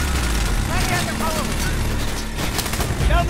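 Gunfire bursts crackle through a Medal of Honor: Warfighter firefight, a dense, loud and continuous wash of shots and blasts with game effects layered on top and a voice speaking over part of it.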